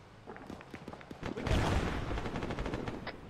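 Gunfire in the ARMA military video game: fast rattling bursts of rifle and machine-gun shots, some near and some farther off, building into a dense volley partway through.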